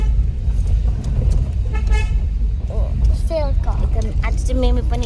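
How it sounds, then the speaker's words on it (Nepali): A car horn honks a few times at the start of a family outing, standing out over steady road noise and an idling engine while people talk nearby. "हामीको आउटिङको लागि हर्न बजाउँ"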